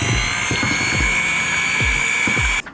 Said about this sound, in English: Then I got our mixer and we're gonna mix it up.